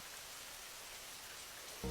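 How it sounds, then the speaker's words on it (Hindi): Heavy rain in a Hindi cartoon falls as a faint, steady hiss of drops with no break, and a brief louder thump cuts in at the very end. "कितनी भयंकर बारिश हो रही है?"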